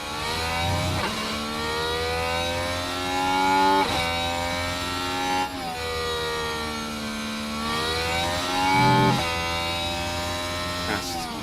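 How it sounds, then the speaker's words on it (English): Formula 1 cars racing around Monza in the F1 Manager 2026 game, engines droning with shifting pitch as they pass, brake and accelerate, loud and continuous from start to finish, with no talk over them. "it just hurts to hear cars slowing down at this circuit"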